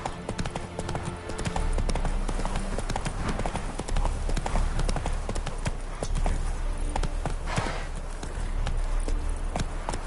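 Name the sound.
horse galloping in video game The Witcher 3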